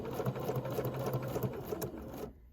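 A sewing machine stitches a quilt block at moderate speed, a close, steady mechanical whirring with rhythmic needle clatter that stops abruptly near the end.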